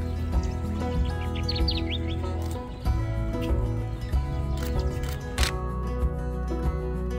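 A Kirtland's warbler sings a short, bright chirping phrase from a boardwalk, fairly faint and brief over a steady background hum, with a few clicks around it.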